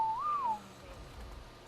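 A single rising-and-falling whistle command in Ark: Survival Evolved, a short clear tone lasting about half a second, then quiet low background ambience.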